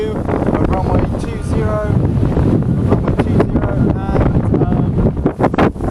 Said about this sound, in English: Got a little bit of a wind breeze today